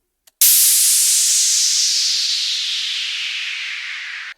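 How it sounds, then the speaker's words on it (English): A crash and downsweep effect for a progressive house track: a sudden bright noise burst that rings out and slowly sweeps downward in pitch over several seconds before cutting off, with no talking. "A crash and a downsweep."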